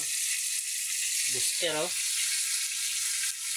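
Food frying in a pan, a constant bright hiss and crackle that stays loud throughout, with someone speaking briefly over it.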